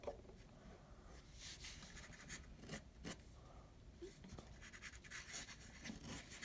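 A fountain pen with a standard nib scratches across paper in faint, irregular rasping strokes, short bursts of dry scraping separated by brief pauses, close and quiet.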